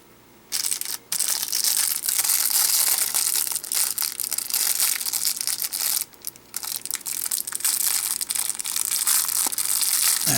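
A plastic resealable pack holding magnetic chess pieces crinkles and crunches steadily, loud and close, with a couple of brief pauses and no talk.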